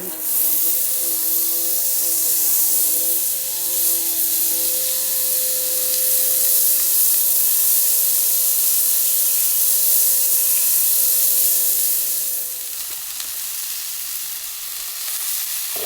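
Brisket smash burger sizzling loudly on a Weber GA griddle, a steady, dense frying hiss that carries on for over twelve seconds before dropping to a softer sizzle.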